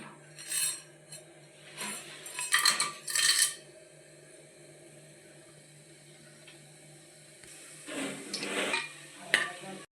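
Whole spices (cloves, cinnamon stick, cardamom, peppercorns) hit hot ghee and oil in a pressure cooker for vegetable biryani, with quiet sizzling and several bursts of metal spoon scraping and clinking as they are stirred.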